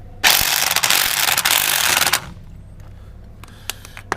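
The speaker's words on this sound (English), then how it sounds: "I'm going to crack the wheel nuts with my gun" Impact gun set to reverse, cracking loose the rear wheel nuts on a Golf Mk5 GT TDI: a loud, close, rattling burst of about two seconds, followed by quieter scattered clicks and handling noises.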